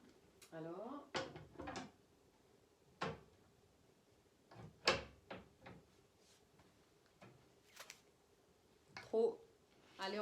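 A homemade mini barn door on a sliding rail for a piece of furniture is rolled and bumped along its track, giving several sharp knocks and short rolling rubs spaced unevenly, close by, with a person talking between the sounds.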